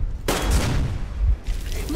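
Heavy booms and bursts of gunfire in the video game Metro Exodus form two loud, dense blasts of noise, with the second coming about a second after the first.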